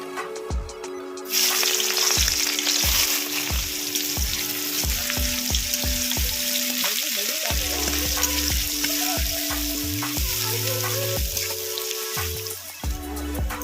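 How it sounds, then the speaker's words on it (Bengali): Sliced onions crackle and sizzle steadily in oil left from frying potatoes for chicken biryani, with repeated metallic clinks of a spatula stirring the pan close by and music playing underneath. "আলু ভাজা তেলের মধ্যেই পেঁয়াজের বেরেস্তাগুলো ভেজে নেব।"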